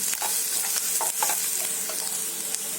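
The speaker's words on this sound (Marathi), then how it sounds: "आणि कांदा आहे ना आता चांगला लाल होईपर्यंत थोडा भाजून घ्यायचा" Onion and chillies fry in a pan for chicken changezi, with a constant bright sizzle broken by soft stirring scrapes.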